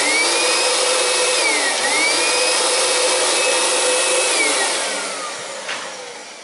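Upright vacuum cleaner with a blown belt and no brush bar spinning, a loud steady motor whine with wavering pitch that dips and recovers, then winds down toward the end, running alone.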